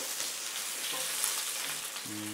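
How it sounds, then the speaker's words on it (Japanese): A block of pork sears in an oiled pan, giving a steady, dense hiss of hot fat that holds evenly throughout, close by with no voices. "それでは豚肉をね、表面焼いていきます"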